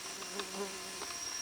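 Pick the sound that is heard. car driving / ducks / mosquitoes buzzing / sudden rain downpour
mosquitoes buzzing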